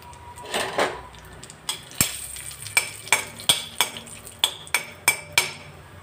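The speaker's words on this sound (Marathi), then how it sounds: "आता घालणार आहे बदामचे काप तर हे सगळे ड्रायफ्रूट्स आपण मंद आच्यावरच तळून घ्यायचे आहे" Almond slices fry in ghee over a low flame with a soft sizzle beneath a regular series of sharp spoon clinks against the pan as they are stirred.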